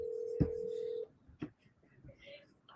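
Phone call being placed, a loud steady electronic tone lasting about a second with a short beep afterward, followed by quiet room sound and faint voices.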